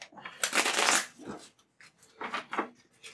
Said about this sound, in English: you're going to shuffle everything else except for those three cards